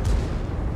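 A single heavy tank cannon shot booms in the World of Tanks video game, a short, close, deep blast with a rumbling tail and no talk over it.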